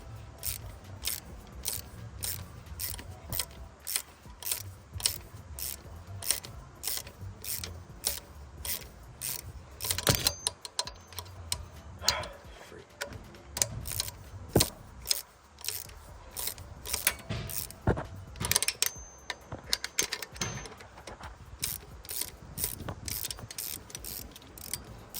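Budget valve spring compressor tool being loosened on an engine cylinder head, giving a steady run of close, regular ratcheting clicks with occasional louder metallic knocks.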